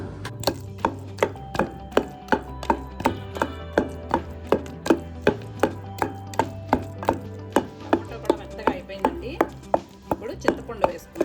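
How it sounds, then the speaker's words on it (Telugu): Tomato is pounded for peanut chutney in a mortar with a steady, regular run of dull thuds, about two per second, close and moderately loud, with no voices. "టమోటా వేసుకున్నప్పుడు కొంచెం మెల్లగా దంచుకోవాలండి."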